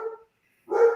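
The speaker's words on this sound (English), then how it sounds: "Sorry, there's a dog barking in the background." A dog being babysat indoors barks twice, two short sharp barks separated by a brief silence, fairly loud and close with no other sound.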